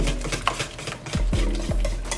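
Lemon icebox pie filling is mixed with a whisk in a bowl, giving close, fast wet swishing strokes and light metallic taps against the bowl in a quick, steady rhythm.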